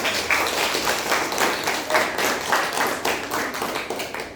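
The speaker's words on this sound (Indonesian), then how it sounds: "Berikan tepuk tangan dulu kepada kelompok 1." Classmates clap for a group that has just finished presenting in a classroom lesson, a brisk, fairly close round of hand clapping with audible individual claps, lasting several seconds.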